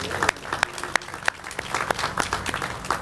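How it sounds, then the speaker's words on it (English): Scattered hand claps from a modest crowd at a ferry stop renovation ribbon-cutting ceremony, irregular and fairly close, with voices murmuring faintly underneath. "If we could have another round of applause."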